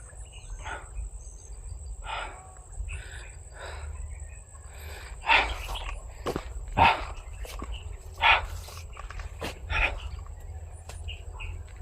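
A dog barks several times at a distance over a continuous chorus of crickets, with a few sharp nearby thumps.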